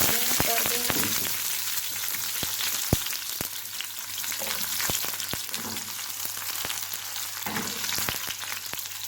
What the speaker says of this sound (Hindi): ऑयल हो गया गरम। अब हम इसमें लहसुन कर देंगे।